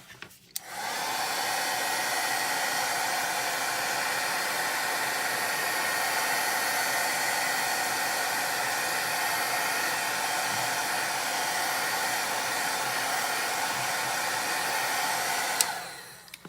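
Heat tool drying Distress Oxide ink on a card, a steady close whooshing blower hum that runs continuously for about fifteen seconds before switching off, with no talking.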